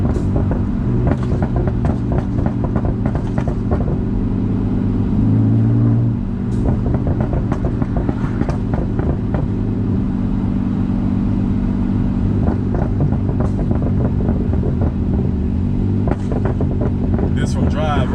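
A BMW M3 fitted with VRSF downpipes, with its stock catalytic converters removed, rumbles loudly and revs repeatedly in a deep, continuous drone, with a person talking over it.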